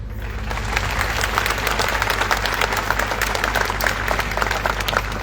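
Loud, sustained applause from a crowd at Dhananjay Munde's political speech in Beed, a dense wash of clapping that holds steady throughout with no talk over it.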